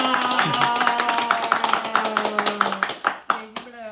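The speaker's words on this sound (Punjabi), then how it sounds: "ਤਾੜੀਆਂ" A small group claps in a steady rhythm while voices sing and chant a welcome, with bright, close handclaps running throughout before breaking into a few looser claps at the end.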